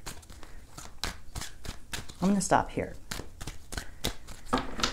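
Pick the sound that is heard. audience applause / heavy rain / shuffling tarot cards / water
shuffling tarot cards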